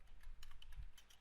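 Light clicking keystrokes on a computer keyboard come in an irregular series of soft taps, close and fairly quiet, with no one speaking.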